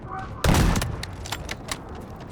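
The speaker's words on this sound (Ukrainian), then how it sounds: "це згори по мене по мене стріляють" Gunfire in the video game Delta Force opens with one loud burst, followed by several sharper, fainter shots spaced through the rest of the moment.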